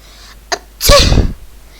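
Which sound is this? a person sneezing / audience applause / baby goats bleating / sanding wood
a person sneezing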